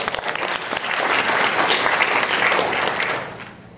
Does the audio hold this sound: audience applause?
yes